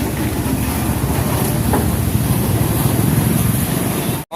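An air compressor runs at an auto rickshaw service station during a diesel wash, a loud, continuous rumbling drone with a fast low pulsing throb. It is heard alone and cuts out briefly near the end.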